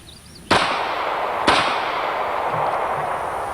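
Two sharp, loud gunshots from a .40 S&W pistol, about a second apart, each a sudden crack followed by a long echoing decay outdoors.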